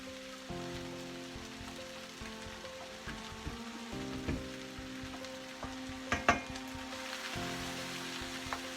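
Ham and vegetable fried rice stir-frying in a pan, a steady, quiet, rain-like sizzle with occasional scraping stirs and faint clinks, continuous throughout, with a low hum running underneath.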